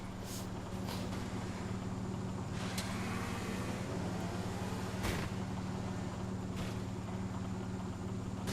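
A car engine in a video game race, one with a smoking, damaged engine, drones steadily at a constant mid level throughout, with a few brief sharper bursts over the hum.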